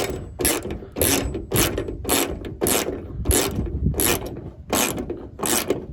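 A hand ratchet tightening down a hood strut on a Ford Focus ST, with about ten rapid, loud clicking strokes repeating in a steady rhythm, close up.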